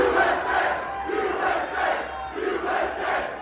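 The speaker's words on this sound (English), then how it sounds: "You can hear the chanting, you can hear the loud applause." A large stadium crowd chants in rhythmic, swelling waves mixed with applause, a dense roar heard from within the venue at a political rally.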